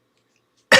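A man gives a single sharp cough at the very end, loud and close after near silence.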